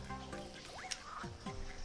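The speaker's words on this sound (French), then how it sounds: "Et là, il y a des grenouilles aussi." Frogs croak in Super Mario Odyssey: a few cartoonish game calls with rising and falling chirps, alone over soft, steady game music.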